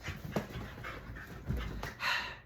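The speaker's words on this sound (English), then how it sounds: "Terriers." Terrier dogs panting close by in quick, breathy bursts, with a short louder gasp near the end.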